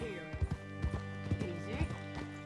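In Red Dead Redemption 2, a horse's hooves clop in a slow rhythm with a brief whinny, under steady in-game music and a voice speaking.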